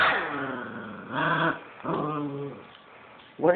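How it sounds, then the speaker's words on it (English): A puppy growls and lets out short yips and whimpering barks, close and loud, in three or four brief bursts separated by pauses. "Why are you barking at the camera?"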